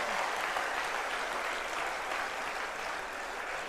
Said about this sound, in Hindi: हाथ ऊपर करके एक बार ताली जरूर बजाइए